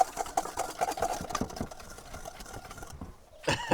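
An electric hand mixer whirs steadily while egg yolks and sugar are whisked for a rhubarb upside-down cake batter, a constant buzzing motor with brief changes in pitch, near and moderately loud.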